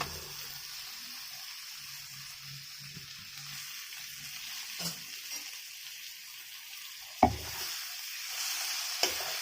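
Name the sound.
frying taro leaves in spiced oil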